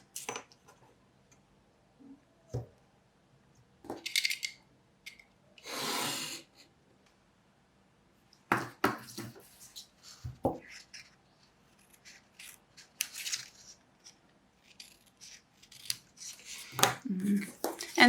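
Scissors snip through paper in a series of short, close crisp cuts separated by pauses, with occasional rustling of the sheet being handled during a photo folio craft project.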